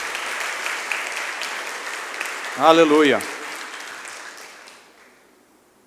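Church congregation applauding during a Portuguese-language service, steady clapping that swells briefly as a voice calls out, then fades away to near silence.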